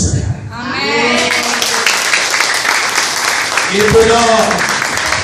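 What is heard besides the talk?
audience applause at a church sermon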